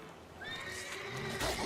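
A horse in The Witcher 3 video game gives a clear, drawn-out neigh, fairly close and loud, with faint hoof clip-clop beneath it.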